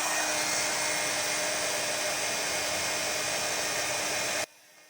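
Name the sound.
heat tool heat setting white embossing powder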